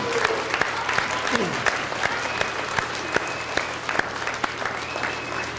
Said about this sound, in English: Let's give our three teachers a round of applause.